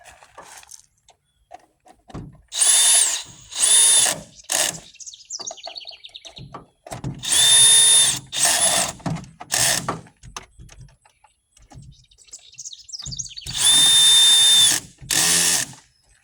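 A power drill set to clutch setting 9 whirs in several loud bursts separated by pauses, each one whining as it drives a screw during a Ford Crown Victoria wiper motor replacement, with faint clicking between runs.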